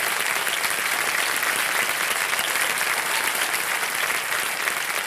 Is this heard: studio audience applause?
yes